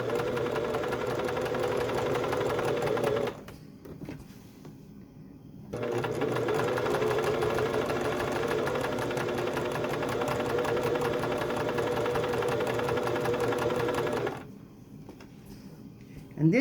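A sewing machine stitches raw edge applique on a quilt in steady, continuous runs, pausing briefly twice before starting again, close and loud.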